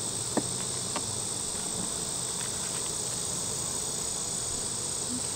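Honeybees buzz steadily during a hive inspection, a dense, continuous high drone close by with a few brief knocks and clicks, no talking.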